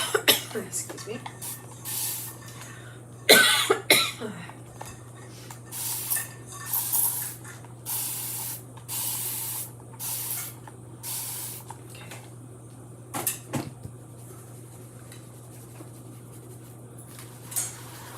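Water spritzed from a handheld spray bottle onto a mat or board, a series of short hissing bursts in an irregular rhythm over a steady low hum, close and fairly loud, with small clatters between.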